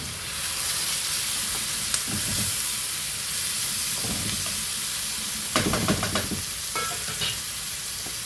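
Tomato and garlic fry in a pan, giving a steady close sizzle with occasional stirring scrapes and clinks, and a cluster of sharper clatter near the end.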